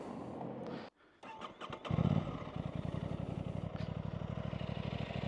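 An Aprilia RS660 sport motorcycle engine cuts out briefly, restarts and settles into a loud, rapid, throbbing idle pulsing from its exhaust, close by.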